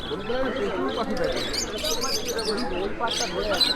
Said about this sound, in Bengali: এই যে পাখি, ভর্তি পাখি